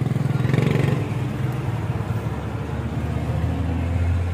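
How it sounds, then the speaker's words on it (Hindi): A diesel engine on an imported M112 combine harvester runs steadily at close range, giving a continuous low rumble with a rapid mechanical throb and clatter and no talk over it. "मशीन के इंजन का रिव्यू थोनू करा दी है।"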